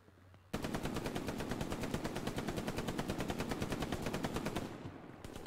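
Sustained automatic machine gun fire in the World War II shooter Hell Let Loose, a rapid, evenly spaced burst of loud shots running for about four seconds before cutting off.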